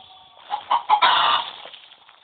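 Chicken clucking in the Roblox game Book of Monsters: a run of several clucks and squawks builds to a dense, louder burst in the middle, then trails off, with no talk over it.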